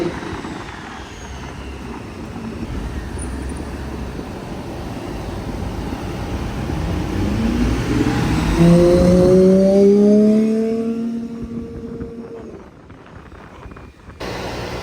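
GMA T50 supercar passing on a London street, a high-revving engine rising from distant to near and swelling to a loud screaming peak before fading away, set against city traffic noise.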